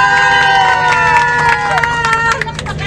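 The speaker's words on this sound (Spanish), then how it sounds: "Un aplauso, por favor." A tour group in Cancún cheers and claps, with whooping voices rising and falling over a busy crowd hubbub. Loud and close throughout.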